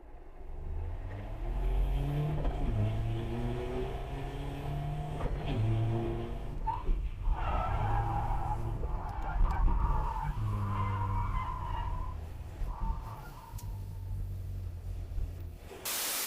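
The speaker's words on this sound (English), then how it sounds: "Now we're testing if it'll drift. I'll start in fourth gear." A BMW E92 accelerating and drifting on a race track in fourth gear, with repeated rising engine revs and long hissing tire skids sweeping through, loud and continuous, now nearer, now farther.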